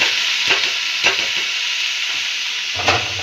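Pumpkin pieces are stirred and fried in a wok with hot oil, a steady loud sizzle broken by a few scraping stirs of the spatula, with no voices.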